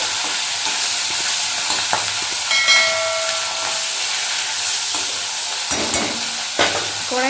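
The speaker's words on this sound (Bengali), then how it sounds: "মাছ আর বড়ি ভেজে তুলে নিয়েছি" Fish and bori frying in plenty of hot oil in a kadai, a loud, close, continuous hiss and sizzle with a few sharper crackles and pops throughout, no voices.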